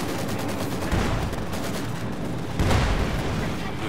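Sustained battlefield gunfire from Company of Heroes 2, dense continuous shooting with heavier bursts standing out, loud and steady throughout.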